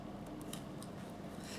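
Scissors snip to trim off fabric or thread at a Bernina sewing machine while making a postcard, a few short crisp cuts close by over steady low background hum.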